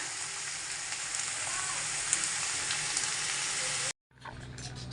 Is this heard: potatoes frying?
yes